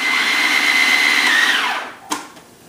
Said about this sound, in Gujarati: પછી આપણે એને સાવ બ્લેન્ડ કરી નાખશું.